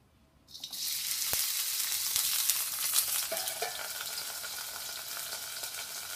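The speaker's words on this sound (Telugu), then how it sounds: "అల్లం పచ్చిమిర్చి వేసుకున్న తర్వాత కొంచెం అందులోనే పచ్చిపోయేలాగా కొంచెం రంగు వచ్చేలా మనం వాటిని ఫ్రై చేసుకోవాలి" Chopped ginger and green chillies sizzle in hot oil in a pan after a sudden start, a steady close frying hiss with occasional stirring clinks, while making a Telugu cucumber chutney.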